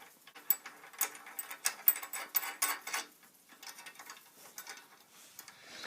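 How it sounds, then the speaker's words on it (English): A small nut is screwed by hand onto a bolt while building a simple engineless children's car at home, giving a quiet run of rapid ratcheting clicks and scrapes that fade toward the end. "Put a little donut on top of the bolt here and screw it on."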